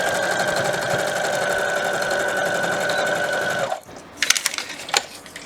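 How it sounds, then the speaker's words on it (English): A sewing machine stitches a paper-pieced quilt block in a fast, steady mechanical whir for several seconds, then stops, followed by a few sharp clicks and handling sounds. "I started off the papers, did a back stitch, and went off the papers and did another back stitch"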